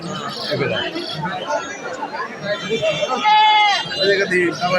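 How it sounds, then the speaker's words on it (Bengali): Goats bleat amid a crowded livestock fair at a cattle market in Manikganj, with a loud bleat rising out of dense chatter and nearby talk. "ছাগল মেলা"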